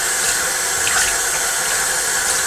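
Tap water runs steadily over an Eheim 2213 canister filter sponge as it is rinsed, a continuous close hiss and splash with no talk.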